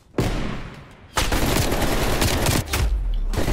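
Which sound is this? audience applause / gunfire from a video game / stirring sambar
gunfire from a video game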